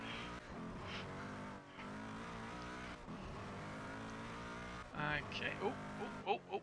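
A powerful race car in a racing video game roars around the Bahrain circuit, its engine note rising and falling steadily under someone talking, with a sharper burst of revs near the end.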